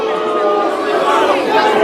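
Protesting students at a university campus jeer and boo the vice-chancellor, a dense, continuous crowd roar of mixed voices and shouts holding steady, close and loud throughout.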